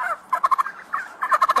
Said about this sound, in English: I'm getting attacked by a chicken right now.